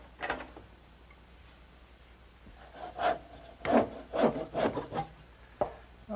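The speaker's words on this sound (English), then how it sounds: "now I'm ready to cut it to length" A handsaw rasps through a wooden column, cutting it to length in a series of uneven back-and-forth strokes, quiet at first and then louder and more regular toward the end.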